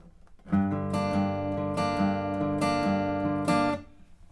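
Guitar riff, played alone as a repeating phrase of plucked notes with sharp attacks about every second and ringing harmonics, fairly loud and close.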